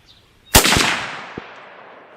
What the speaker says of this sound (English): Let's go to that clean plate real quick and just shoot a 3-shot group